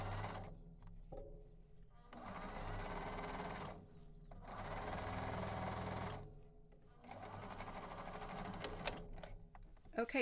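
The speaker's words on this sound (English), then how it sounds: "So I start my stitching on the underarm seam." A sewing machine stitches the underarm seam of a casual shirt, running in three steady bursts of rapid mechanical whirring separated by short pauses, close and fairly loud.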